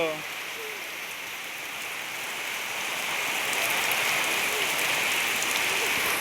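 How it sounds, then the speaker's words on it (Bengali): Steady rain hissing down on a surface, building slightly louder over several seconds, with a faint voice briefly audible at the start. "বৃষ্টি চলে আসছে"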